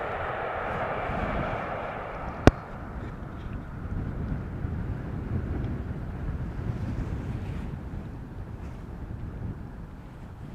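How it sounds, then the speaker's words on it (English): A KLM airliner lands on runway 18R at Amsterdam Schiphol as a broad, rumbling roar that fades out over several seconds. A sharp click breaks in early, then a steady wind-like wash remains. "Another typical KLM arrival. High speed."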